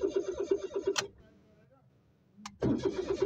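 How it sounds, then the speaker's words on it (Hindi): A Suzuki car engine cranks without starting: a rapid rhythmic starter whirr runs for about a second, stops with a click, then resumes after a quiet gap, loud and close, with no engine catching. "हम ये क्रैंक करते हैं, गाड़ी क्रैंक तो कर रही है"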